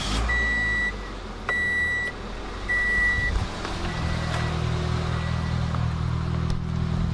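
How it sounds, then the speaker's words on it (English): A Subaru car's exhaust settles into a steady low rumble as it moves, after several bursts of loud electronic beeping from nearby; no one speaks. "Get a load of that exhaust though"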